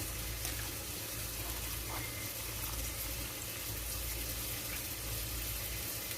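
Steady broadband pouring of strawberry gelatin mixture into a mold, a continuous splashing hiss with a low rumble underneath, even and unbroken throughout.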